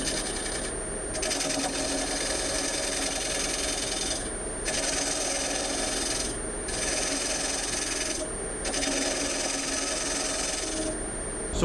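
Woodturning lathe tool cleaning up the bottom of a wooden bowl, giving a steady scraping, rasping hiss over the lathe's hum that dips briefly every couple of seconds as the cut eases off.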